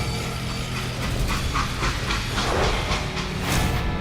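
A freight train in the video game Call of Juarez: Gunslinger, a loud continuous rumble with hissing steam and rhythmic clacking of wheels on rails, heard up close with no talk.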